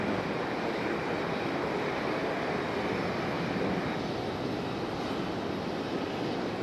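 A climbing American Airlines Boeing 737 leaving Raleigh-Durham airport produces a steady, broad jet roar at some distance, holding even and constant throughout.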